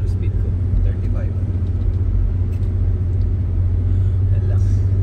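Steady low rumble of a car with an automatic transmission coasting downhill at around 35 to 40 km/h, a constant near road and engine drone with talk over it.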